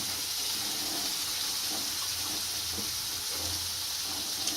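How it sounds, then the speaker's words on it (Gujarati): Water is poured into a pan of gravy for a green chickpea curry and stirred. A steady, close hiss of liquid and simmering runs throughout with faint stirring knocks and no talking. "આમાં પાણી નાખી અને હલાઈ નાખશું"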